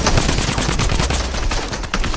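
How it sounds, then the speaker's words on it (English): Rapid automatic gunfire from a drum gun in the video game Fortnite, a dense, continuous burst of shots that stays loud for the whole stretch. "I have a drum gun."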